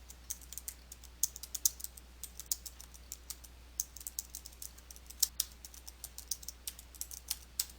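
Rapid typing on a computer keyboard, a quick irregular stream of crisp key clicks and taps over quiet background hum, close and clear with no voices.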